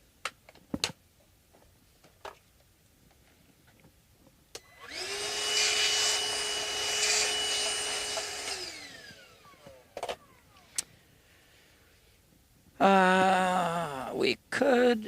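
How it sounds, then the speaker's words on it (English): Vacuum cleaner cleaning up drilling debris after boring a quarter-inch hole for a Kelly Beast pickup mod, running steadily for about four seconds amid scattered clicks and handling knocks, followed by a short burst of another whirring tone. "Let me vacuum it."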